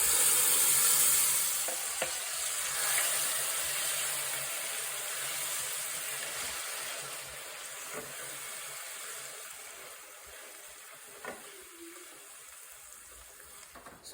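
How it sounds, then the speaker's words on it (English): Blended pepper mix hits hot palm oil in a pan for Nigerian eggplant sauce, a loud broadband sizzle that starts strong and slowly fades over several seconds, with a few soft clinks. "Now in a hot pan, I'm going to add some palm oil. And I'm going to add my blended pepper mix."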